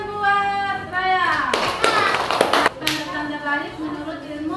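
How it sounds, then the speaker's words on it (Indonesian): A school classroom of children clapping for a pupil, a short burst of applause rising over a teacher's voice, with talk before and after the clapping. "Tepuk tangan buat Raya."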